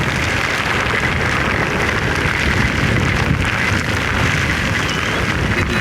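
Heavy rain pours down in a loud, dense, continuous roar of drops hitting surfaces, steady throughout with no talking.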